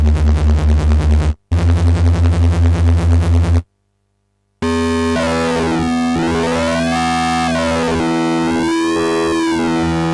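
Pocket Operator PO-14 Sub synthesizer playing a loud, steady electronic pattern of pulsing bass notes. A short break follows, then sweeping, gliding distorted tones swell and fall without any voices.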